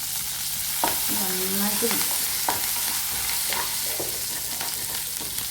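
Ginger and garlic sauté with curry leaves in a pan for a mixed pickle. A steady sizzle runs throughout, broken by several close scrapes of a spoon stirring.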